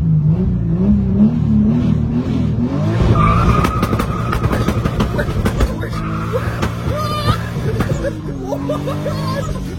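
A tuned Toyota Supra (600+ hp) makes a standing start, its engine revving hard as the tires squeal loudly and steadily. Excited voices and crowd chatter run underneath.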